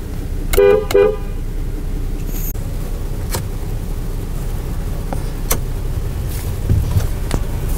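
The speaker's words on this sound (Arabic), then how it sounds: "هرن" A 2016 Land Rover LR4 HSE LE sounds its horn in two short, loud toots close by, followed by a steady interior hum and faint clicks.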